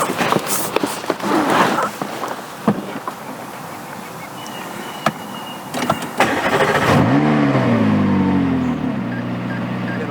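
A McLaren 570S engine rumbles up and pulls away, a steady low mechanical drone building close by after several sharp knocks and handling noises.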